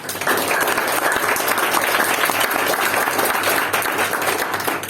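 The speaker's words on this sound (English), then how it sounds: "So let's give them a big round of applause." Members applauding at a Toastmasters meeting of the Brunei Speakers Club, a close, continuous wash of many hands clapping at an even level throughout.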